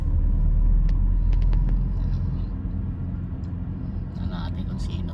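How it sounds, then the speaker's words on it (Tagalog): A car or similar vehicle rumbles past on a roadside near an early-morning fishing spot in Saipan, a steady low drone that fades as it goes by, with faint voices and small clicks around it. "Ayan, may isang sasakyan."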